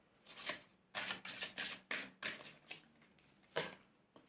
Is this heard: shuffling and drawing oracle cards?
yes